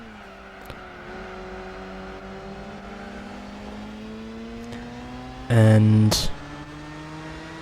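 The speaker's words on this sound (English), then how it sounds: "Felix Wankel rotary engine, or just the Wankel rotary engine in general, as I now take over the lead here at Apricot Hill" A Wankel rotary-engine race car in Gran Turismo 4 holds a steady, buzzing drone that slowly climbs in pitch during a Clubman Cup race at Apricot Hill, with a sharp louder burst near the end and a voice speaking briefly.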